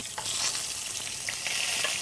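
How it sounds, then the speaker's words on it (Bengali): Eggplant slices frying lightly in a little oil give a steady, close sizzle with faint crackles and the soft scrape of stirring throughout, no voices. "এবার বেগুনটাকেও আমরা একটু হালকা তেলে হালকা ভেজে নিব"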